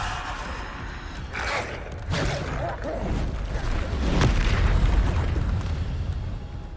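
Bombarda spell blasts boom and rumble through a Hogwarts Legacy fight, a steady loud wash of explosive bursts with a voice briefly heard amid the chaos.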